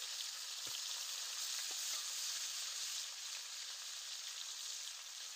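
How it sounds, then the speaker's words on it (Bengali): Pieces of rohu fish fry in hot oil in a home kitchen, giving a continuous even sizzle with a couple of faint clicks near the start, no talk. "এইভাবে আমি সব মাছ ভেজে নেব।"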